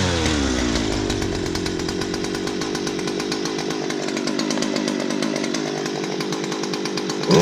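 A Stihl FS250R string trimmer engine runs loud and close, its two-stroke buzz rising and falling as the throttle is feathered rather than held wide open, with a sharp rev-up at the very end.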